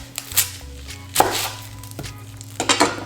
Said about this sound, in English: There's so many different ways to cut an onion.